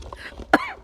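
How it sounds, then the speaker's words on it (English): A single sharp cough bursts out mid-clip, close and loud, with a brief throat-clearing rasp trailing after it; faint background murmur fills the rest. "You need to stop coughing."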